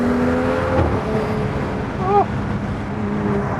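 A BMW F30 335i with a stage 1+ tuned N55 engine drives along, its steady cabin drone and road noise filling the space, while a person briefly exclaims over it.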